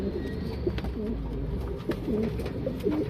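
Lal Chini pigeons, including a female, coo softly in a series of low, rolling calls against a steady background hum, with no voices present.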